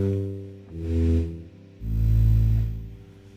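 A Luma-mu in-tune polyphonic synthesizer plays two sustained, swelling chords, each rising in volume and fading, with a short gap between them.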